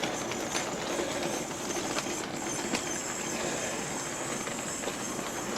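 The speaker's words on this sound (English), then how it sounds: "I'm going to try and see if I can bring the Black 5 with its train out of the station" A Hornby Black 5 OO-gauge model locomotive, DCC ready and converted to 3-rail, pulls its train out of a model station with a steady mechanical whirr and faint rail clicking, constant and close, no talk.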